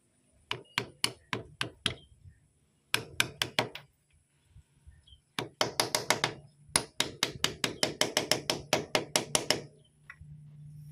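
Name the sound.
hammering a seal into place with a 17 socket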